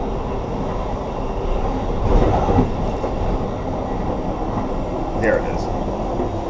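An Amtrak passenger train rolls along the rails between Culpeper and Orange, a steady loud rumble with faint clatter and a brief squeal, while a person speaks briefly over it.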